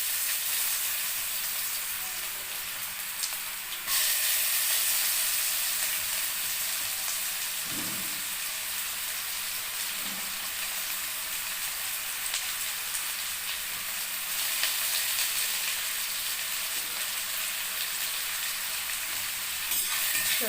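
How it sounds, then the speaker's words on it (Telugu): Chopped onions and cumin seeds frying in hot oil in a pot for an aloo masala curry give a steady, close sizzle with a soft hiss that holds for about twenty seconds, with a couple of faint stirring knocks. "జీలకర్ర వేస్తూ ఉండగానే మనము ఇందులో తరిగి ఉంచుకున్న ఉల్లిపాయలు వేసేస్తాం అన్నమాట"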